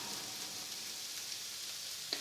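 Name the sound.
meatballs browning and sizzling in a pan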